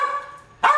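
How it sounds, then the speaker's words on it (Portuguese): A pet dog barks up close in a home, a sudden loud burst near the end after a quieter stretch of background sound. "Que pirou minha cachorra, pirou."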